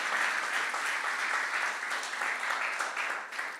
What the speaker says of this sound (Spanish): Dale un aplauso, porque Él se lo merece